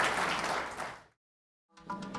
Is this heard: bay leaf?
no